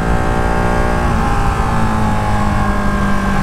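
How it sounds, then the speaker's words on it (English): A 2018 Ducati Panigale 1299R Final Edition motorcycle puttering at low revs, a loud, close, steady engine rumble that holds throughout. "Do you hear how this bike sounds when you're just kind of puttering?"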